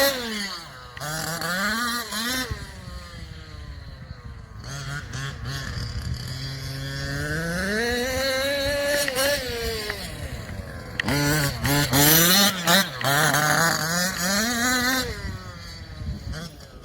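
The petrol engine of a Losi 5B RC car fitted with 56/22 gearing revs loudly and close, its pitch rising and falling through repeated throttle sweeps, with brief stutters and hiccups.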